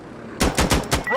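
Rapid automatic gunfire from the Insurgency: Sandstorm video game: a short burst of four or five loud, sharp shots in quick succession.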